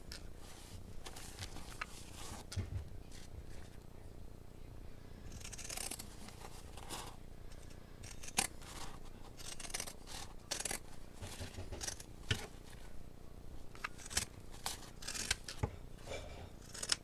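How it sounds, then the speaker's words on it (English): Scissors snipping the corners of an in-the-hoop embroidered mug rug at an angle, a series of short crisp cuts and rustles of fabric scattered through the stretch, close and fairly quiet, no talking. "Now, your corners, you will want to cut at an angle."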